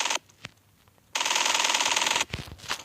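Bursts of rapid automatic gunfire in a zombie video game, a short crack followed by a sustained roaring volley about a second long, then a few scattered shots.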